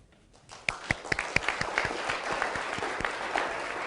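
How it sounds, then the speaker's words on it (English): An audience bursts into applause at a Vancouver entrepreneurs' group gathering, starting with a few sharp individual claps and swelling into steady, dense clapping that holds to the end. "Round of applause."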